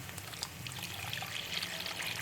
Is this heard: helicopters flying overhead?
no